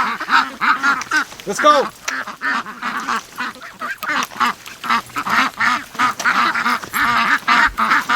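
Ducks in a pen quacking loudly and close in dense, overlapping bursts throughout, with a person speaking briefly among them.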